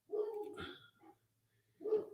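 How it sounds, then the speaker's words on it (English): A dog barks nearby in a few sharp bursts, two close together at the start and another after a brief pause, with a faint low hum underneath. "I'm sorry, that's my dog barking."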